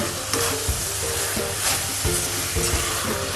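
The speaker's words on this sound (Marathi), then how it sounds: "हे बघा असं परतून घ्यायचं छान। असं साखरेला कसं पाणी सुटतं ते पूर्ण ड्राय करून घ्यायचं आपल्याला।" Grated fresh coconut and sugar sautéed in a kadhai, a steady close sizzle with frequent scraping stir strokes and the soft crackle of the moisture cooking off.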